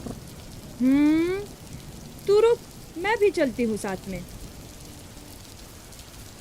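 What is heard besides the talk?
heavy rain and thunder sound effect in stage play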